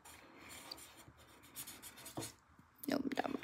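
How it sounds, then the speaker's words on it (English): A marker squeaks and rubs across a surface while a signature is written, then scribbled over, with short scratchy strokes growing louder near the end. "I'll write my signature."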